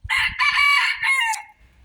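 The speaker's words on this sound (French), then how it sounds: "c'est un coq Sussex" A Sussex rooster crows loudly and close by, one long drawn-out cock-a-doodle-doo with a strained, rising finish, over faint background noise.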